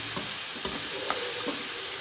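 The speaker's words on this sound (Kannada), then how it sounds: "ಹುಳಿ ಹಾಕ್ಕೊಂಡು ಕ್ಲೀನಾಗಿ ಪಿಂಕಿಶ್ ಆಗೋವರೆಗೂ ಫ್ರೈ ಮಾಡ್ಕೊಳ್ಳೋಣ" Onions frying in a pan with mustard seeds and curry leaves for a bhindi fry, a constant hiss of oil with several soft scraping knocks from stirring, close and alone without talk.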